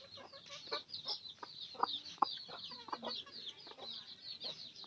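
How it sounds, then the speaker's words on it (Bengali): Hens cluck and peck on a rural Bangladeshi poultry setup: soft, fairly distant clucks and chirps over a series of light, irregular tapping pecks, with no talk. "মুরগি ঠুকরাইতেছে।"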